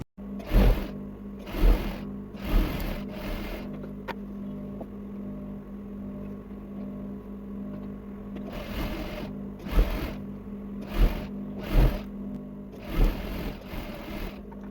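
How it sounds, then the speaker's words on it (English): A sewing machine stitches the side seam of high-waisted shorts in several short, close bursts separated by pauses, with a low motor hum throughout and no talking. "So just go ahead and place the front sides facing together, and you will sew the side seam."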